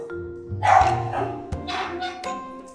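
A dog gives several short, loud barks close by in quick succession, with only a little background sound around them.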